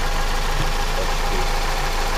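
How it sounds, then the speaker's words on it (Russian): Toyota Ipsum with a 3S-FE engine, freshly fitted with new valve stem seals and piston rings, idles warm in a garage with a steady, even hum. Someone speaks a single brief word over it. "Сейчас мотор нагрелся."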